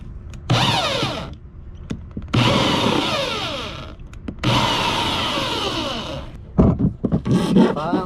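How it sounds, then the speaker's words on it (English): A power drill bores a hole in a Ford Transit van in three loud bursts, each a few seconds long with a high grinding whine, separated by short pauses and small clicks, followed by a final choppy burst of rattling. "Now we gotta go ahead and drill that hole right there."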